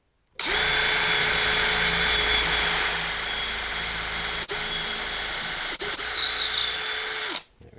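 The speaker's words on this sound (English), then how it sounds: "that's where we're going to drill the first hole" A power drill bores a hole into a rotten wood blank for woodturning, a steady loud whine running for about seven seconds with two brief stops near the end.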